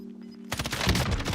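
Rapid gunfire breaks out in Call of Duty: Warzone after half a second of quiet hum. It is a loud, dense burst of close shots that continues to the end.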